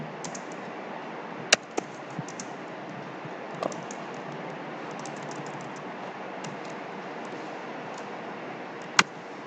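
Code being typed on a computer keyboard during a coding hackathon: a steady, faint run of soft keystrokes over a low hiss, with a few sharper isolated clicks and no talking.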